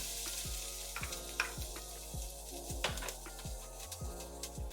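Onion sautés in olive oil in a pot for chicken tortilla soup, a quiet, steady sizzle with occasional stirring clicks, under a low, regularly pulsing background hum.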